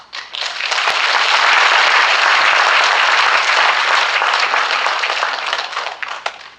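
Audience of older attendees applauding at an annual general meeting in Sangju, a broad, loud burst of many hands clapping that swells quickly, holds steady, then tapers off.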